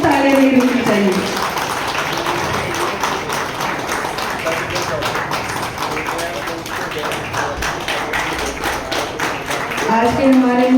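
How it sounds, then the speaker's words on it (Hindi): Sustained crowd applause and clapping from an audience at a festival ceremony, dense and steady for several seconds, with a voice over it at the start and end. "तालियां नहीं रुकनी चाहिए।"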